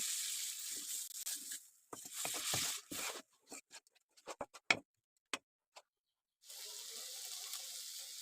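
Water is poured into a pan of masoor dal cooking with drumsticks. A hissing splash comes in short bursts, then a string of sharp crackles and ticks, before a steady hiss resumes.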